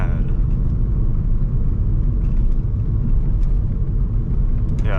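Steady low road rumble from inside a moving 2002 VW Passat Wagon, with faint irregular thumps and knocks as the tires roll over bumps.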